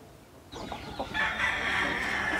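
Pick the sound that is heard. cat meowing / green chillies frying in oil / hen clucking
hen clucking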